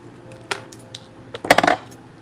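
Small light clicks and a brief cluster of metallic snips sound as beaded craft pieces are cut off, close and fairly quiet, with a sharper burst of ticks toward the end.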